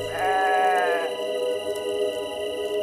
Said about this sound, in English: I see 5 sheep here. There should be 8 sheep.